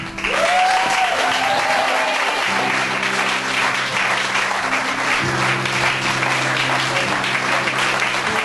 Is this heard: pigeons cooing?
no